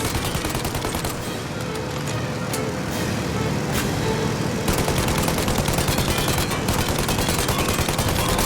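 Sustained gunfire in the Mafia video game, rapid shots crackling loudly and continuously amid engine and vehicle noise, with the barrage intensifying in the second half of the scene.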